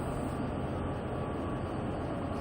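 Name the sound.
train running in the video game Train Sim World 2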